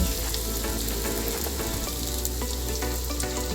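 Chicken fillet frying in very hot oil, a loud, constant close-up sizzle with dense crackling and a low rumble beneath, steady throughout without speech.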